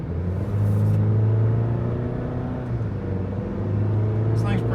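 A 2025 Chevy Colorado pickup truck accelerates at half throttle with a steady, loud, low engine drone that holds throughout and swells slightly near the end.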